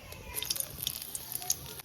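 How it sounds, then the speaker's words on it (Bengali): Two dried red chillies drop into hot oil in a kadai, giving a close, sharp crackle of irregular pops and spits that lasts under two seconds, with no talking. "এবার গরম তেলে দুটো শুকনো লঙ্কা ফোড়ন দেব"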